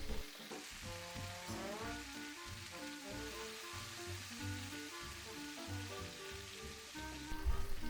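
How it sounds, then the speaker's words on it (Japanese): Mushrooms sautéing in olive oil in a small frying pan, a steady close sizzle that holds at an even level throughout with soft background music underneath. "オリーブオイルでマッシュルームを炒めます。"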